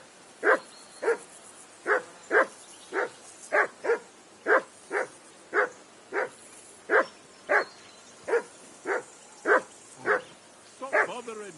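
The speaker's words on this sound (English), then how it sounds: "Be quiet, you flea-bitten hound." A dog barks and yelps over and over in Kingdom Come Deliverance 2, about seventeen sharp, evenly spaced barks with a faint whine in them, fairly close and clear, with no talk over them.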